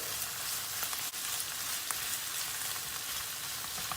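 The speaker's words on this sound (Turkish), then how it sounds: "Salçayı iyi kavuracağız." Tomato paste and peppers fry steadily in a pan for a Turkish potato musakka, a dense continuous sizzle with faint crackles and occasional soft stirring clicks, close and alone without talk.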